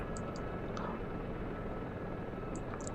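Steady, dense rotor and engine drone of a helicopter in the flight simulator DCS World, loud and unbroken, with a few faint chirps above it.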